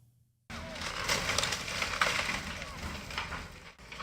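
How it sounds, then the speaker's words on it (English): Bulldozers demolish a shantytown, crushing torn structures and breaking glass in a loud, continuous crunching roar that starts abruptly and runs for about three seconds. "Monday morning began with the sounds of bulldozers, breaking glass, and torn structures"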